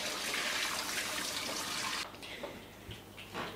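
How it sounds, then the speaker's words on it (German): Cold water poured off blanched green beans in a kitchen, a loud, steady rushing splash for about two seconds that then drops to quieter trickles and drips. "du kannst jetzt das kalte Wasser schon abgießen, dass die Bohnen praktisch trocken liegen bleiben"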